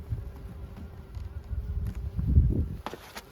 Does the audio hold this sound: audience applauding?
no